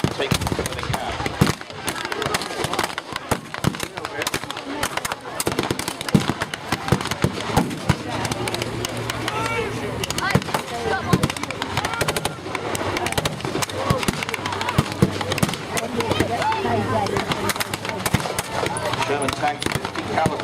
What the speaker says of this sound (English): German infantrymen in the dugouts remain putting up small arms fire.